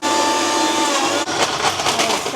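A mixer grinder whirs steadily as it grinds biscuits into powder for a microwave cake, then its tone turns rougher and more churning partway through as the contents shift; no voices.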